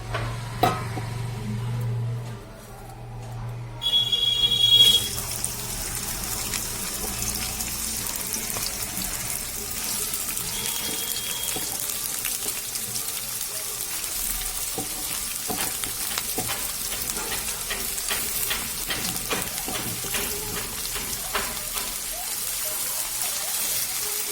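Vegetables for chow mein frying in a pan, a steady close sizzle running the whole time with occasional stirring scrapes and a brief louder burst near the start.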